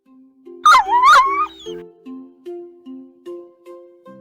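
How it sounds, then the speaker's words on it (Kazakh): A dog gives two quick, high yelping barks close by, followed by a run of evenly spaced tonal notes. "Бұл ит."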